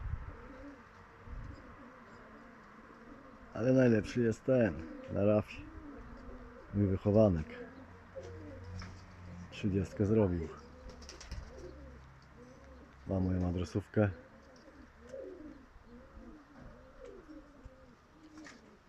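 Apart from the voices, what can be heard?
pigeons cooing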